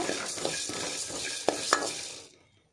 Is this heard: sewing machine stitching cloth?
no